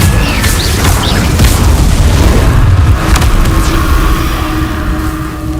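Confringo fire-blast spell from Hogwarts Legacy, a loud, sustained roaring explosion with a heavy low rumble and crackling bursts throughout.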